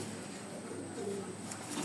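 A household pigeon coos softly nearby, one or two short low murmurs in a quiet indoor setting.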